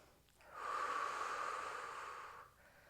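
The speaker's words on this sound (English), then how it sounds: "Breathing in through the nose and out through the mouth." A single long, steady breath through the nose during a Pilates workout, close and smooth, swelling quickly and holding for about two seconds before fading, alone and without speech.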